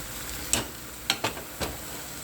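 Pansit noodles with pork, chicken and broth in a pan over lowered heat, a soft steady sizzle broken by four light utensil clacks as the noodles are stirred.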